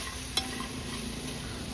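Spices and chopped tomatoes fry in a pan while being stirred, giving a continuous soft sizzle with a few scraping stir sounds, heard alone.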